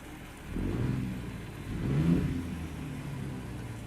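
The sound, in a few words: Mack Superliner E6 truck engine revving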